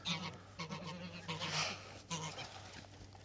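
A goose laying an egg honks repeatedly in short nasal calls, close and fairly loud, with a person talking over it.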